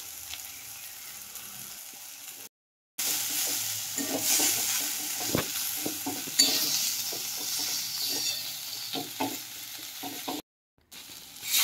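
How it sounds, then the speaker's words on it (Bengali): Spice paste of tomato, salt and turmeric sizzles steadily in a pan for a chicken and new-potato curry, with a spatula scraping and stirring through it at close range; two brief gaps of silence break the frying noise. "আমি কিন্তু অনেকটা সময় ধরে মশলাটা কষাচ্ছি"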